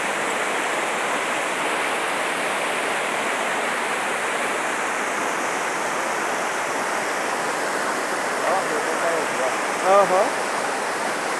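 A waterfall roars in a steady, dense rush of falling water, close and loud throughout, with a brief murmured voice near the end.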